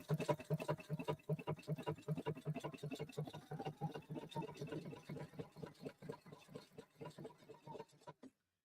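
Singer JoyOS Advisor sewing machine running steadily, its rapid needle strokes forming a dense even rhythm close up before stopping near the end.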